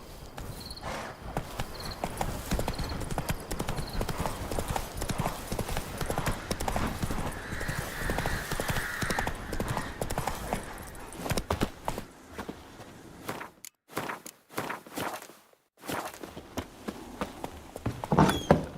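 Roach the horse galloping in The Witcher 3, a rapid, continuous clip-clop of hooves under game music and a brief whinny, pausing near the end before resuming.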